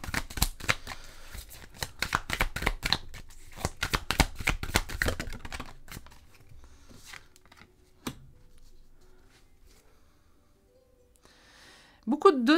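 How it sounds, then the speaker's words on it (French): Tarot cards slide and riffle in a brisk run of quick, close crisp flicks for several seconds, then thin out into softer sparse rustles and near quiet, with a short louder handling noise at the very end. "Les cartes qui glissent."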